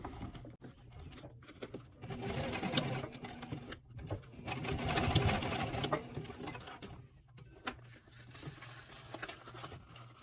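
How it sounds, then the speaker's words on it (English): A sewing machine stitches down the boxed edges of a fabric dog treat pouch, a steady close buzzing run of stitches with a few brief pauses and stops in between. "we were going to just stitch down each boxed edge to finish the pouch"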